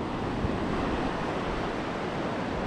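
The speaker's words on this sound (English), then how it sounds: "So this is Galfa Beach here." Waves and wind at Galfa Beach in south Trinidad, a steady broadband roar of surf and gusting wind against the microphone, continuous and fairly loud with no voices.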